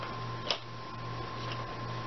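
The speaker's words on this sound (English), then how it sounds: "You'll hear a little click." Plastic pieces snapping into place on a Silhouette Cameo 4 cutting machine give a single small, sharp click over a quiet electrical hum.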